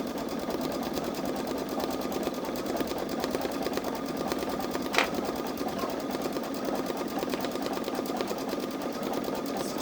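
A Babylock Solaris Vision sewing machine stitches continuously at a fast, even rhythm, close and steady, with a single brief click near the middle and no talking.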